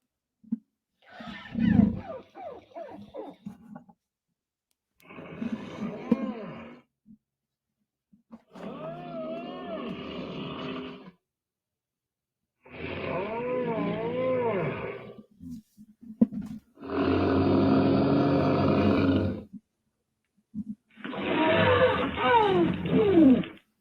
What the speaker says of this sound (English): I'm going to make up for it by playing Saurolophus sounds